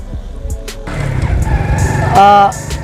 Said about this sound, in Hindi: तो मैं अभी बाइक चला रहा हूँ